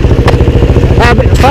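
A KTM 390 motorcycle engine idles loudly up close with a rapid, lumpy thrum, while voices talk briefly over it.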